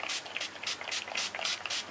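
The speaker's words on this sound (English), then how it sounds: "I'm going to spray a puddle of ink down in this bottom corner" Dylusions ink sprayed from a small pump bottle onto paper, about eight quick, hissing spritzes in a fast, even rhythm, close and fairly quiet.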